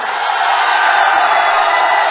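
A big crowd at an election rally in Arwal, Bihar, cheers and whoops loudly, a dense, continuous roar with no break, as supporters respond to the call to applaud the candidate.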